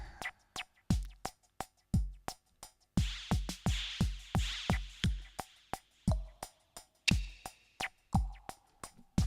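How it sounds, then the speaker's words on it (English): A sparse skeleton drum pattern for a rock song plays in a steady rhythm, with sharp repeated hits and decaying tails, fairly close and alone. "What you're hearing is the very sort of skeleton drum pattern of the maturing guillotine."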